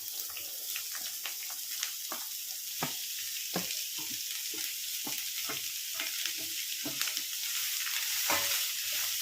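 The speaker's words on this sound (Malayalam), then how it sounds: "അരിഞ്ഞ് വെച്ചിരിക്കുന്ന ഉള്ളി ഇട്ട് കൊടുക്കുകയാണ്" Chopped onion with curry leaves and a dried chili sizzling steadily in a hot pan for an onion thoran, with repeated sharp clicks and scrapes of a spoon stirring throughout, close and continuous.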